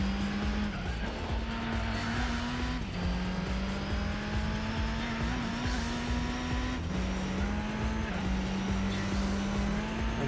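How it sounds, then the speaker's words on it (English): Camaro race car in Gran Turismo 4 holds a steady, loud engine drone with gear-shift steps, tires squealing and skidding throughout, continuous and close. "I guess that means it's the return of the Camaro race car"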